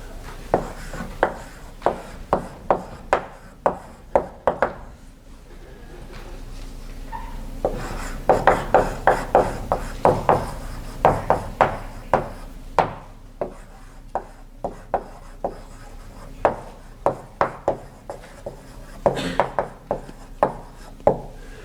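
Chalk strikes and scrapes across a blackboard in uneven bursts of sharp taps and short scratchy strokes, some clusters quick and dense, others spaced out, heard up close over a quiet room for about twenty seconds.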